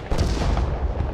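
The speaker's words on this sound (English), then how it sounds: "artillery's coming in as well" Artillery fire in the real-time strategy game Broken Arrow, a loud, continuous, deep rumbling barrage of booms that fills the moment with no talk.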